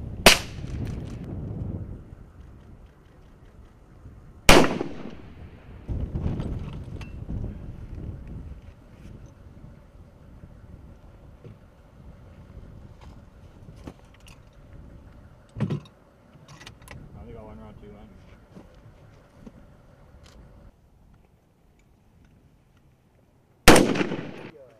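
Sniper rifle shots at a military armed forces marksmanship match, three sharp loud cracks spaced far apart, the first two close together near the start and one more near the end, with faint outdoor background and quiet murmuring between.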